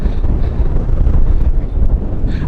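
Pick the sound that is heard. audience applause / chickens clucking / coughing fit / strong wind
strong wind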